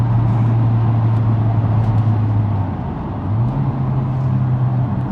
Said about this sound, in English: Wait for the pressure to build and those turbos to come on speed